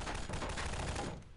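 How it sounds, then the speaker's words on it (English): Rapid gunfire in a Prop Hunt game, a quick dense burst of shots lasting about a second, fairly faint and with no voices over it. "I was just randomly shooting at shit"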